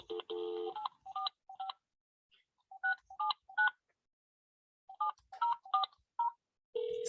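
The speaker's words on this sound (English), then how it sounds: "I'm going to give Dave Menzies' home phone a call" Telephone keypad tones dialing a home phone number, a series of short clear beeps in uneven bursts with silent gaps between groups, close and distinct.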